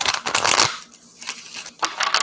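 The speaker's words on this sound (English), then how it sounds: "I'm gonna get one more shuffle here." Tarot cards being shuffled up close in bursts of crisp riffling and slapping, with a brief lull between the shuffles.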